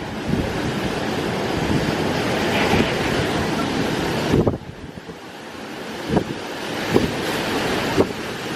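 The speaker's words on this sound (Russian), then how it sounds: "меня тоже качает от ветра" Strong storm wind gusts and roars steadily with broadband rushing noise, buffeting the microphone in surges, with brief lulls and a few sharp gust peaks, in Moscow near the Ostankino Tower.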